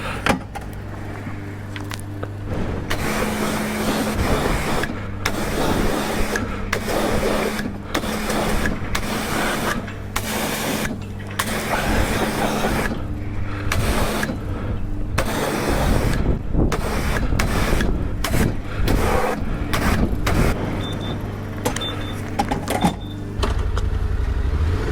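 A coin-operated jet wash gives a 2020 Yamaha Tenere 700 Rally motorcycle a cold rinse, a loud, steady spray hiss broken by repeated short gaps as the water stream cuts in and out.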